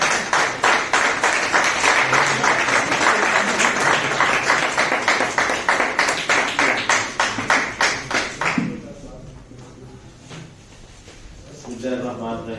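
An audience at a mushaira poetry gathering claps to welcome a speaker, loud rhythmic applause that thins and stops partway through, followed by quieter room sound and a voice speaking.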